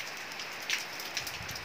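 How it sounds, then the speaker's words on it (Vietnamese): Steady rain falls outdoors beside a small-leaved polyscias bonsai, a dense even hiss of drops with a few louder splashes, close and uninterrupted, with no voices. "ở ngoài trời là mưa rất là hấp dẫn luôn"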